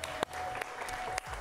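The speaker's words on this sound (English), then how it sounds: "Give your Curious Comedy players one last applause as they leave the stage" An improv comedy show audience gives a final round of applause as the players leave the stage, a steady moderate clapping wash broken by a few sharp thumps.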